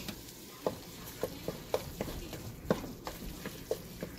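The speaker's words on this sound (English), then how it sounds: "our hamburger is getting browned up" Ground hamburger meat browns in a pan for chili, giving a low, soft sizzle with periodic light taps and scrapes of a utensil roughly every half second, quiet and close.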